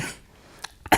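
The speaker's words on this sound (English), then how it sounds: "we're gonna see if that can help me with the coughing that I've got going on" A single person coughs twice in quick succession during an exercise session, short sharp bursts after a near-silent pause, close and alone without speech.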